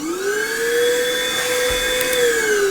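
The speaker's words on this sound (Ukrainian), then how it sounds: "Пилосос підіймає буквально декілька листочків і все." An STHOR 82971 2-in-1 car and household vacuum cleaner runs steadily with a high, even motor whine and airflow hiss, loud and close, with no talking.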